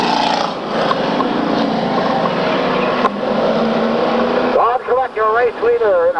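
Stock car race cars, Pontiac and Chevrolet, roar past in a steady loud engine drone, with an announcer talking over the racket through much of it.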